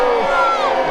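A reenactment crowd at the Battle of Hastings cheers and whoops loudly for Saxon England, a dense sustained roar of many voices filling the whole moment.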